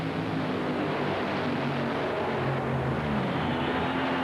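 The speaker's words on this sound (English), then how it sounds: "You're riding on board inside the Castrol Olds of John Force." John Force's Castrol Oldsmobile drag racing funny car heard from onboard during an NHRA elimination run, a loud, steady engine roar that holds constant throughout with no voices.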